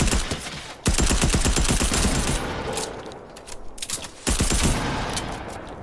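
Dense bursts of rapid gunfire in the Fortnite video game, loud and near, firing almost continuously with two brief pauses and no talk over it.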